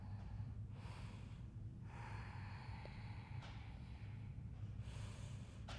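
Calm, steady yoga breathing during a flow, slow soft inhales and exhales rising and falling in long airy swells over a constant low background hum.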